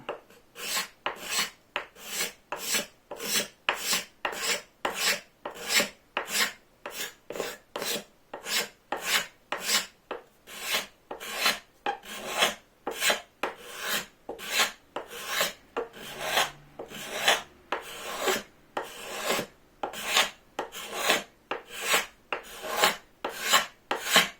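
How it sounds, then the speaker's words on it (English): A hand scraper works across wood, cleaning up tear-out with a steady run of short, crisp rasping strokes, each a sharp burst in quick rhythm, close and fairly loud with no talking. "what I'm gonna do is just kind of angle my scraper. Okay, just like clean that up"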